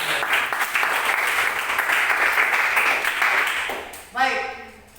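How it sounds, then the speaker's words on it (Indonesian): A classroom of students applauds three classmates, steady moderate clapping that fades near the end, when a short bright tone rings out on its own. "tepuk tangan untuk ketiganya"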